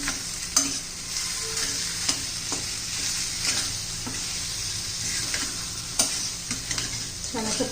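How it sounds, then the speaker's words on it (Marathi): Kachori filling with boiled potato being stirred as it fries in a pan, a constant close sizzle broken by rhythmic scrapes and taps of the spatula. "मस्त हलवून घेऊया एकदम"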